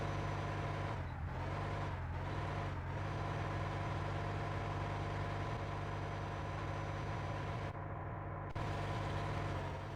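A bus engine idles steadily at close range, a continuous low rumble with an even throb and no other sounds over it.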